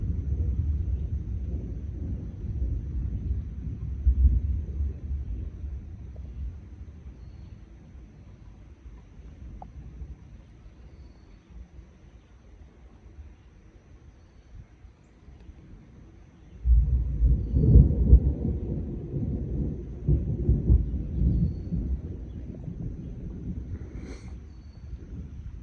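A severe thunderstorm over Parkersburg brings low, rolling thunder that rumbles on and off, then swells into a much louder, sustained roll partway through, with wind noise and no talking.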